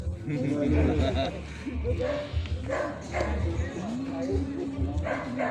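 A dog yips and barks a few times amid chatter from several people, the barks fairly quiet and mixed into the voices.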